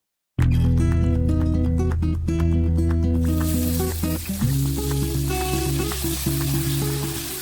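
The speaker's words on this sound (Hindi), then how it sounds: "अब हम लगाते हैं तड़का" Loud, steady sizzling of tempering spices hitting hot ghee, crackling and spitting throughout over background music.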